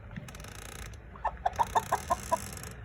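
Chickens cluck nearby in a quick series of about eight sharp clucks, following some faint rustling and low background noise.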